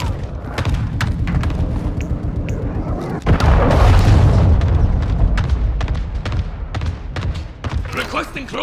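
A claymore mine detonates in Modern Warfare II gameplay: a loud, close, heavy boom lands mid-way and rolls on as a sustained rumble, set among scattered gunfire pops and thuds, with voices calling out over the combat.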